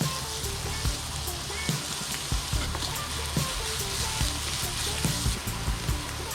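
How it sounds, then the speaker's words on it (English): Garlic frying in a generous amount of oil for fried rice, a steady dense sizzle with occasional crackles and pops, close and fairly loud throughout, no talking. "We're gonna start frying our garlic for fried rice."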